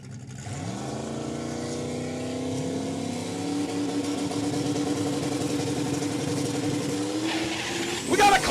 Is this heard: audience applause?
no